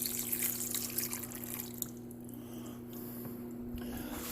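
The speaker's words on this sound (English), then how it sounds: "Okay, and we pour that in the stew." Liquid pours and trickles into a pot of green chili stew, with a steady low hum underneath and a few soft drips toward the end.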